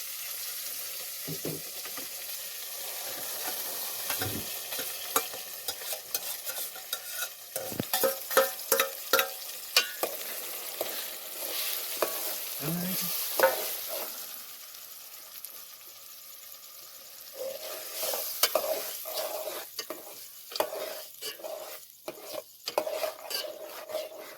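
Spices sizzling in hot oil in a pan, a continuous crackle with repeated scraping and stirring clatter, close up and without talk.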